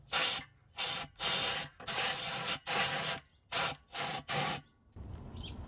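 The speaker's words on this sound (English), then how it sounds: "It's dry, so you can just start by blowing compressed air in there." Compressed air blasts into a Truma RV water heater during a service, coming as eight sharp, loud bursts in a steady rhythm with short gaps, followed by a softer hiss.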